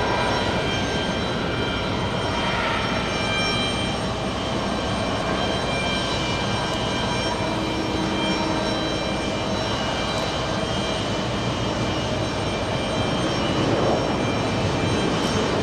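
A C-17 military transport aircraft taxiing toward a runway at JFK airport, a broad, steady engine roar that stays constant and fairly loud throughout, with no talk.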